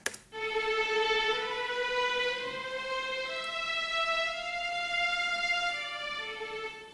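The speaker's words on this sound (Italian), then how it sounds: "Per il primo layer di strings ho utilizzato un plugin di Arturia chiamato Augmented Strings" Layered synthetic strings from the Arturia Augmented Strings plugin play a simple scale of sustained notes stepping steadily upward, rich in harmonics, heard alone and clearly.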